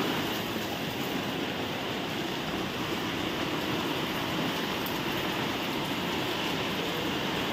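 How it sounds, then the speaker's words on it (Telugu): Heavy rain pours down outside a home in a steady, loud, unbroken roar that holds an even wash of noise from start to finish, with no voices. "ఫుల్ వర్షం పడుతుంది ఫ్రెండ్స్."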